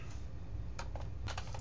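A few faint, scattered keystrokes on a computer keyboard, soft clicks tapped near a low steady hum in a quiet room.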